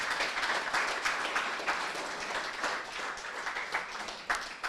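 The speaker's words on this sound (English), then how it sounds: "Let's give you a round of applause again." An audience applauds entrepreneurs at a summer accelerator's final presentations, with dense, steady clapping through the whole stretch and no talk over it.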